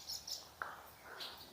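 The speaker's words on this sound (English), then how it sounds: "Birds flying in here, so I'm sure there's birds nesting. And I think these are swallows." Swallows calling inside a monastic ruin, a few faint, short high chirps and twitters at a distance, with a sharp small tick between them amid quiet room ambience.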